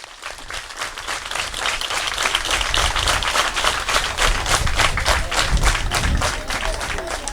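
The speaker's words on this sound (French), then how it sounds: "Applaudissez-le." Dense, sustained applause from a crowd at a school event in Senegal, honouring a person just introduced, building slightly and holding steady without pause.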